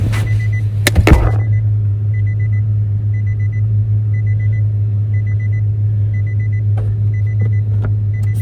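Low steady engine rumble inside a moving car, with a sharp knock near the start and faint intermittent ticking over the drone.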